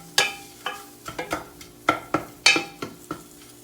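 Vegetables for a Russian cabbage soup with leeks and dill sizzle in oil in a pot, heard as a run of sharp crackling bursts and stirring clinks, close and moderately loud with no talking.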